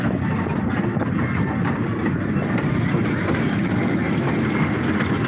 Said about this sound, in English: On a very tiny train.